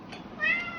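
A cat calls out near a window at mealtime, a single short meow rising briefly and fairly close, with no voices.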